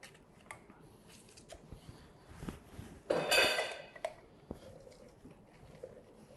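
Juice is poured and strained to catch seeds, with small clinks of a strainer and utensil against a bowl and a brief louder splashing pour in the middle, fairly quiet overall.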